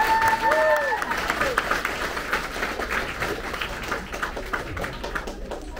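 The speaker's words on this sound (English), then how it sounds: "Let's give one more big round of applause for outstanding citizenship" Audience applause at a sixth-grade elementary school promotion ceremony, a steady wash of clapping from a room of people that runs throughout, with a brief tonal sound at the start.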